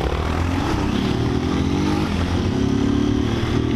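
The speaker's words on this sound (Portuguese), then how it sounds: "O motoca acelera no toque" Delivery motorcycle riding through São Paulo traffic, with a loud, steady engine drone that holds and rises slightly under the throttle, close to the rider and constant throughout with a rough mechanical clatter, no voices.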